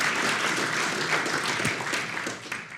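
An audience at a scientific talk breaks into applause, a steady wash of many hands clapping fairly loudly that tapers off slightly toward the end.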